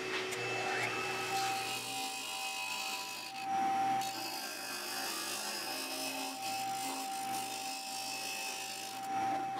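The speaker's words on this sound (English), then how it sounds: "I took the corners off the end at the disc sander." A disc sander rounds off the corners of a wooden piece in a woodshop, giving a steady, moderately quiet rasping grind with a constant motor hum beneath it throughout.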